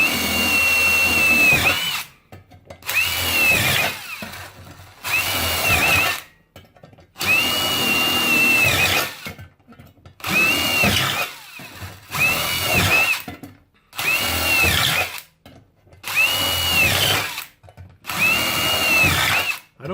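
A power drill bores a series of holes in a metal hobo stove, about eight loud whining bursts of a couple of seconds each, separated by short silent pauses.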